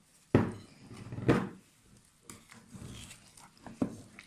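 Pide dough being mixed with oil in a bowl: a few sharp spoon knocks against the bowl and soft wet squishing between them, close and fairly quiet, no talk.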